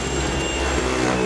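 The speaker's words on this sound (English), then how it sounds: "I'll use my Dyson V11 to do a quick vacuum of the floors." A Dyson V11 cordless vacuum cleaner runs on a floor with a loud, steady motor whir and airy whine, unbroken throughout the brief moment.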